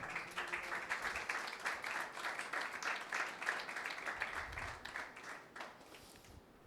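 Church congregation applauding at a Sunday meeting, a fairly quiet, steady patter of many hands clapping that carries on for several seconds and fades near the end.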